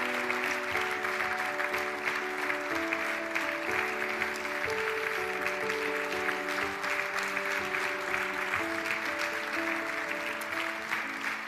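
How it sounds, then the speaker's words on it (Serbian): Sustained applause from a studio audience at a TV entertainment show fills the room, steady and dense for several seconds while a soft musical backing with held notes plays underneath. "Molim vas veliki aplauz za Mladenovu mamu"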